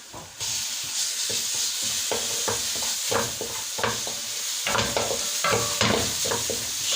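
Chopped garlic goes into onions and peppers frying in a pan for stuffed vegetables, a sudden jump into a strong sizzle followed by repeated stirring scrapes and crackles.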